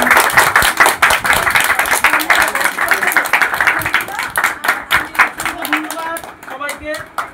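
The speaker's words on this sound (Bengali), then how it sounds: "হাততালি হাততালি দাও।" A group claps together at a birthday celebration for PC Roy. The clapping is loud, close and rhythmic, steady for several seconds before thinning out toward the end, with voices mixed in.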